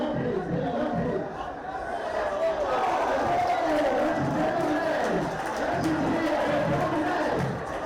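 Home football crowd at the Ramat Cup reacting to a bicycle kick goal, a broad wash of shouting and chatter that swells and rolls for several seconds.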